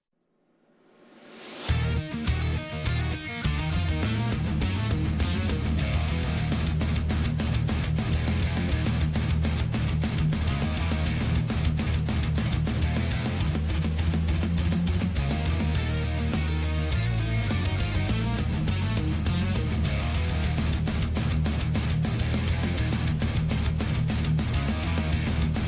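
A full metal band arrangement of heavy distorted riffs built on the HyperRig Kiesel guitar plugin, with fast chugging rhythm guitar and driving drums that kick in after a brief swell and stay loud and dense throughout.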